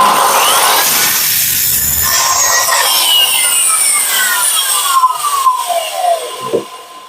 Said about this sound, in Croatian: Već je pila tupa.